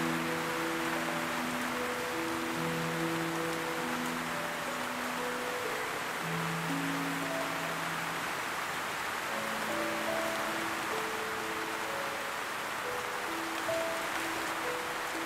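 Steady rain falls in a full, even hiss that runs unbroken throughout, with soft sustained musical tones playing over it and no voices.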